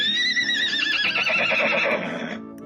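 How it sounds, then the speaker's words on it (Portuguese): A horse in a video game neighs loudly in one sustained whinny, the bright call wavering and falling before it fades out alone. "Léo, o meu cavalo não está machucado, não."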